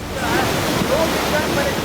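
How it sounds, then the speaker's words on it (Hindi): Swollen Chenab river in flood, rising after monsoon rains, its water surging with a steady broad roar that fills the whole stretch, loud and close, with no pauses. "नदी में आए इस उफान ने निचले इलाकों में लोगों की मुश्किलें बढ़ा दी है"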